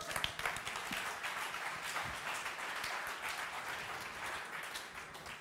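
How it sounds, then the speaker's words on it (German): An audience at a founders' business summit applauds a volunteer on stage, with dense, steady clapping across the whole stretch, moderately loud and tapering slightly at the end. "Kriegt einen Applaus fürs Mitspielen."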